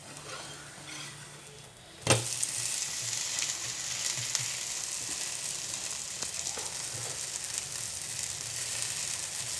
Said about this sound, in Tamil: இப்போ மூடி வச்சதுக்கப்புறம் தோசை வந்து நம்ம திருப்பி போட்டுக்கலாம்